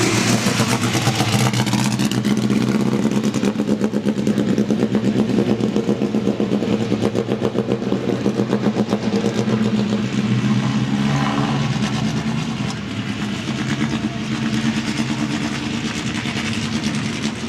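A red and black classic race car, number 75, laps the track at the AACA Eastern Fall Meet in Hershey, Pennsylvania. Its engine roars loud and close at a steady drone, then eases slightly toward the end.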